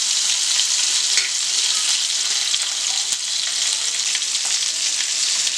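Quail roasting in oil in a kadai gives a steady, bright, hissing sizzle that stays loud and continuous, with a few faint crackles and scrapes and no voices.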